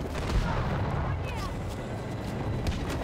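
Battlefield 2042 tank nearby on a ship deck: a continuous heavy low rumble with booming weapon fire and rolling explosions, steady and loud throughout, with voices underneath.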